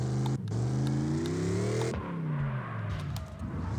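A battered Mustang in the racing game CarX Drift Racing revs hard, its engine pitch climbing through repeated rising sweeps with brief drops between gear changes, loud and close.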